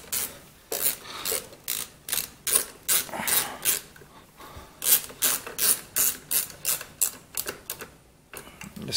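A socket ratchet turning a carburetor bolt on a Husqvarna 125b: a long run of close, crisp clicking strokes in uneven bursts with short pauses, no talk.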